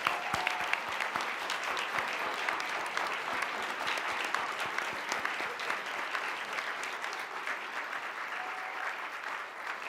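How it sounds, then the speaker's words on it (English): Audience applause at a national health summit, a large crowd clapping steadily and densely for the full stretch, fairly even in loudness with no talk over it. "let's give them a big round of applause"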